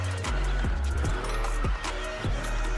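A Subaru BRZ drifts in the mobile game Car Parking Multiplayer, its synthetic engine revving and repeatedly dropping in pitch as it shifts and slides, fairly loud with no talk.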